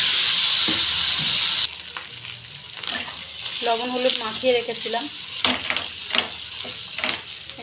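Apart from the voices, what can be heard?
fish roe frying in a pan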